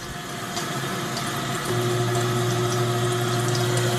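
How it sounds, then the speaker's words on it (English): Kitchen sink garbage disposal running with a steady grinding, pumping drone over water noise, then a lower, stronger hum kicking in partway through and holding to the end, close and continuous. "Alright, let's see how it works."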